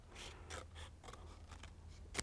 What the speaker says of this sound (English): You're going to take a pair of scissors and you're going to actually cut